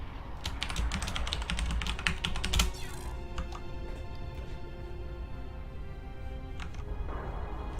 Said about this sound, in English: So sorry for typing.